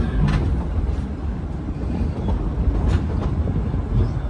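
A steam train, the Dollywood Express, rolls steadily along the rails with a continuous heavy rumble and faint rhythmic clatter, with no voices.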